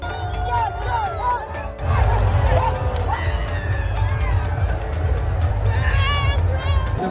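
Packed stadium crowd at an IPL 2025 opener, Kolkata Knight Riders against Royal Challengers Bengaluru, roaring and cheering loudly and continuously, with shouts and whistles rising over the dense roar and a voice talking close by.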